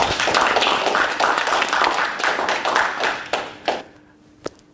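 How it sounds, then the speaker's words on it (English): Applause for a speaker being introduced at a live public-speaking event, a dense burst of clapping from the audience that thins out and fades to a few scattered claps. "Please give an applause for our first speaker."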